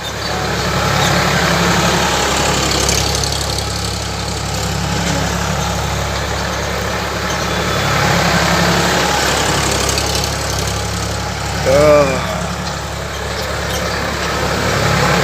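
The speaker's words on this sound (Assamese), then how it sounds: "ট্ৰেক্টৰেদি মাৰাছে আৰু ধান ট্ৰেক্টৰেদি" A tractor engine threshing rice chugs steadily nearby at a low, even drone, with a brief rising whine around the twelve-second mark before the rumble settles again.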